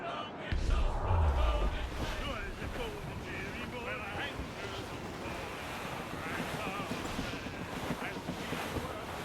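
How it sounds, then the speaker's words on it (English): Strong wind at sea aboard a sailing ship in Assassin's Creed Rogue, a loud, constant roar of wind and surging waves with low rumbling, and a voice speaking over it. "Wind's getting vicious."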